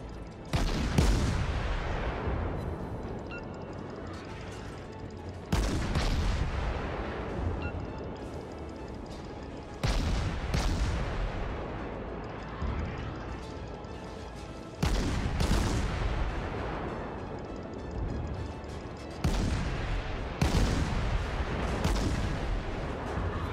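Naval guns fire from a Novik destroyer in the World of Warships game, five heavy booming salvos spaced several seconds apart, each a loud deep blast trailing off into a rumbling decay.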